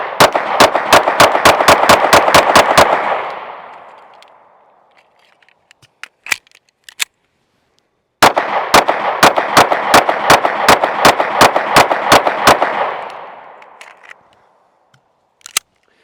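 Two rapid strings of about ten sharp gunshots each from a Sig Sauer P365 X compact pistol, loud and close, each string emptying the magazine, with a pause and faint clicks of handling between them.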